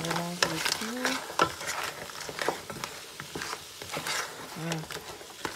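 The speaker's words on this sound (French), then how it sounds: "je mélange le tout" Lobster and vegetable sauce being stirred in a pan, soft sizzling with repeated spoon scrapes and clinks, close, with some brief tonal sounds over it.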